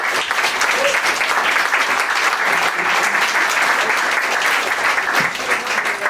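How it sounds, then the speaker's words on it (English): Sustained applause from a conference audience at an occult-themed event, dense and steady clapping filling the room for about six seconds with a faint voice at one point. "can we just all please give Mark Cocking another big round of applause, please?"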